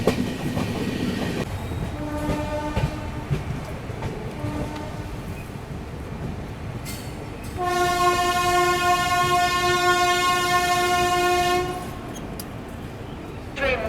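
The 12423 Dibrugarh Rajdhani Express rumbles steadily along the Guwahati-Siliguri line near New Cooch Behar, with short horn notes early on and then a long, loud sustained horn blast in the middle.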